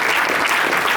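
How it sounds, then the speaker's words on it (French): An audience claps for Yves Jouffroy at a book signing and speech in Paris, a brief burst of dense, close applause that holds steady throughout. "On applaudit Yves Jouffroy."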